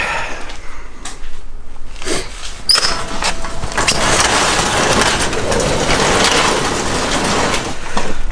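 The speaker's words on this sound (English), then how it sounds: "Garage door." A garage door makes a loud, continuous rattling rumble. It begins after a couple of seconds of quieter background and carries on steadily to the end.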